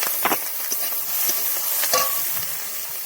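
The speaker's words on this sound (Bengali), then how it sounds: "আদা রসুনটা ছিদ্রানো, তার সাথে কাঁচা লঙ্কা দিয়ে ভালো করে কষিয়ে নেবো, ভেজে নেবো" Ginger, garlic and green chillies frying in a pan for a prawn and taro leaf dish, a constant bright sizzle close by with occasional soft stirring knocks, no talking.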